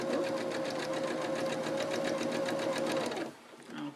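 A sewing machine stitching a tutu purse runs in a fast, even whir of rapid needle strokes for about three seconds, close up, then stops abruptly.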